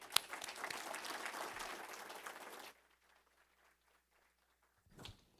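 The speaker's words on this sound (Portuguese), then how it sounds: "peço uma salva de palmas para todos os nossos trabalhadores do chão de pátio" An audience at a seminar gives a burst of clapping for workers, lasting under three seconds before dropping to near silence, with a brief sound near the end.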